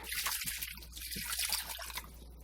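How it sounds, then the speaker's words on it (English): Two cups of warm water pour into a bowl for bread dough, a steady splashing, trickling stream that runs continuously and fairly close, with no talking. "So we're going to add our 2 cups of warm water."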